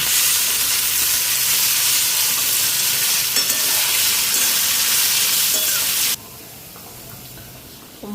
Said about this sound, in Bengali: এখানে আলু ভাজাটা বসাইছি